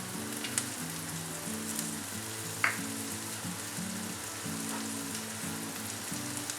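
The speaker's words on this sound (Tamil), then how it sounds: "ஸோ இப்போ அடுத்தது பூண்டு சேர்க்குறேன்" Garlic and mustard seeds sizzle in melted butter in a pan, giving a continuous close frying crackle with a few sharp pops. A steady musical background runs underneath.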